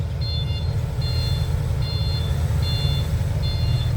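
A dump truck reversing near a Sumitomo SH130-6 excavator on a land clearing job, its backup alarm giving five regular beeps about a second apart over a loud, steady diesel engine rumble, with no talking.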